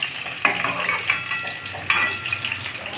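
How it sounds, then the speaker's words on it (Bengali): Fish fry crisply in a pan for muri ghonto, a steady close sizzle punctuated by a few sharp clinks and stirring scrapes, quiet and without voices. "মুড়িঘণ্টর মাছগুলো আপনারা এইভাবে কড়া করে ভাজবেন।"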